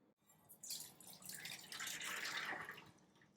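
Water is drained off boiled soya chunks, pouring and splashing, a soft rushing flow swelling and trailing away, fairly quiet and close.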